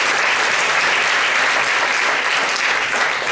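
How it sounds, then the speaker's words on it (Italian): Applause at the Prunola 2017 award ceremony: dense, continuous clapping from a sizeable audience, steady and even in loudness throughout, with no voices over it. "Un applauso, bravissima."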